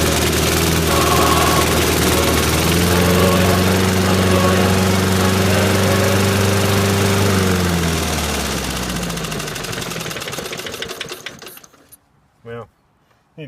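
Snapper lawn mower engine after tuning, running loud and close with a steady drone that shifts pitch as the throttle is adjusted, then winding down and stopping, followed by a couple of brief handling noises.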